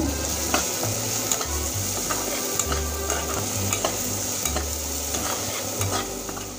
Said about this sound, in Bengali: আর দিয়ে দেব হলুদ গুঁড়ো। এবার নেড়ে নেব।